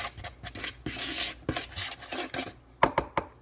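Cocoa powder, salt and flour stirred together in a bowl: a quick run of gritty scraping and rubbing strokes, then a few sharp utensil clicks against the bowl near the end.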